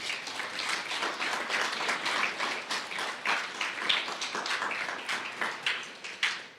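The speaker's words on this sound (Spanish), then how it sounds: "Dale un fuerte aplauso a Dios en esta mañana." A congregation at a church service applauds together, a steady wash of many hands clapping that runs for several seconds at moderate distance, with a few sharper claps near the end.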